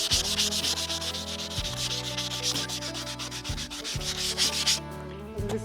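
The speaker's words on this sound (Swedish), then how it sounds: "Jag ska slipa först och sen ska jag testa dem" Steady rhythmic sanding of wood, a rasping back-and-forth scrub repeated in long strokes, close and fairly loud, with no voices.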